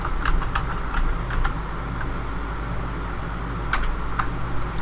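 Keys clack on a computer keyboard as word art text is typed in Excel, in short bursts of quick taps over a steady low hum.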